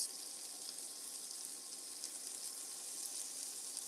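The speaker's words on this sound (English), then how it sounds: "it's got this little fat cap on it, it will sizzle up" Chili oil and fat sizzle steadily in a frying pan, a soft, continuous crackling hiss with no talking.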